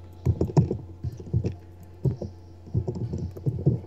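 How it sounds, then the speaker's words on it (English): Computer keyboard keys tapped in short bursts of clicks and clacks, fairly close and moderately loud, with irregular pauses between groups of strokes during a Terraria gaming session. "Can you hear my keyboard?"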